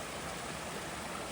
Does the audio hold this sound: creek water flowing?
yes